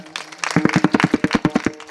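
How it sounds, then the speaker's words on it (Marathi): An audience at a devotional gathering claps in a short burst of about a dozen sharp, rhythmic hand claps. The claps sound close and fairly loud and follow a brief moment of voices. "सर्वांनी एकदा टाळ्या वाजवायचे"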